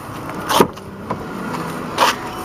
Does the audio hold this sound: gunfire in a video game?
no